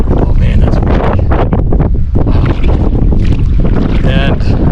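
Strong wind at Willow Lake in Nebraska, loud and gusty, roaring and buffeting across the microphone without a break, with a brief muffled voice near the end.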